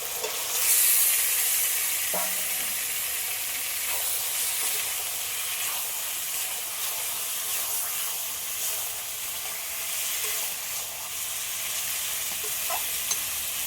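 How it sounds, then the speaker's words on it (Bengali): Chicken pieces sizzle and fry in a cooked-down spice paste, a steady broadband hiss with a few stirring scrapes, close and continuous without talk. "মশলাটা ভালো করে কষে নিয়েছি এবার মাংসটা দিয়ে দিচ্ছি"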